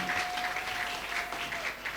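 Church congregation applauding during a worship service, steady dense clapping lasting throughout with a faint sustained tone underneath and a little murmured speech.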